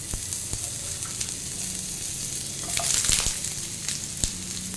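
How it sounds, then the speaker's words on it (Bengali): Pieces of pointed gourd frying in hot mustard oil on low flame, a steady close sizzle and crackle with a brief swell of louder spitting midway, no talking. "দিয়ে এটাকে কিছুক্ষণ লো ফ্লেমে আমি হালকা করে ভেজে নেব।"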